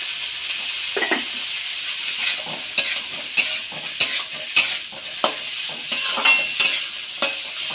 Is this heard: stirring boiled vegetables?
yes